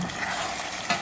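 Chicken karahi with green chilies, coriander and ginger frying hard over a high flame, a steady dense sizzle with light stirring and one brief louder stir near the end, no voices.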